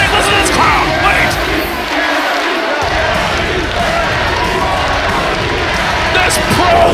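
Dense, steady roar of a wrestling crowd filling the Coliseum during the Limitless Rumble show, loud and continuous with shouts and voices blending in throughout.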